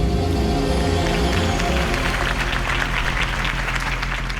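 Crowd applause for Harvey Dent's speech in the Batman Telltale video game: dense, loud, sustained clapping from a large audience, steady throughout with a slight fade toward the end.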